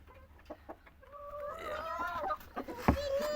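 Desi hens in a rooftop backyard coop cluck and cackle nearby in a drawn-out, rising call, with scattered clucks and a sharp knock near the end.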